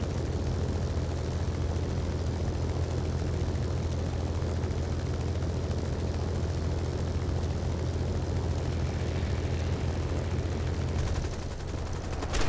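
A steady, dense roar of engines and rumble fills a combat flight game as an enemy aircraft draws near, loud and continuous throughout with no talk, easing slightly near the end.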